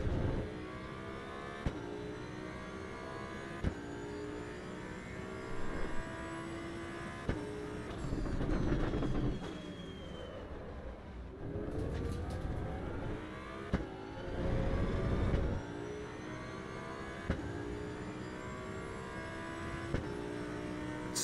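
GT3 race car engine in the Assetto Corsa EVO racing game, revving steadily with rising and falling pitch through gear changes and braking, loud and continuous with no talk.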